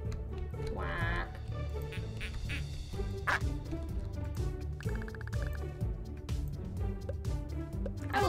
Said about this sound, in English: Oh, it is the duck.